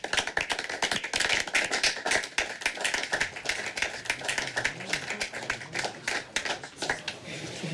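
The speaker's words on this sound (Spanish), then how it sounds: "Un aplauso, por favor." Office staff at a police unit burst into steady applause, a dense run of close hand claps lasting several seconds with little talk.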